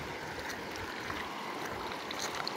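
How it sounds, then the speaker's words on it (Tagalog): Strong stream water rushing steadily toward a ram pump, a dense continuous wash at close range with no voices. "Medyo nakakuha tayo ng medyo malakas-lakas na tubig."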